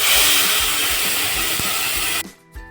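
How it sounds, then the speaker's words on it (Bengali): Tomato puree poured into a hot pan with asafoetida, fenugreek, fennel and bay leaf, giving a loud, steady broadband sizzle that cuts off abruptly near the end. "দিয়ে আমরা টমেটো পিউরিটা ঢেলে দেবো।"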